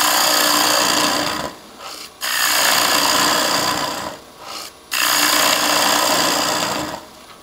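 A wood lathe with a turning tool cuts into a wooden bowl blank, removing bulk in three loud, continuous rasping passes broken by short pauses, close up with no talk.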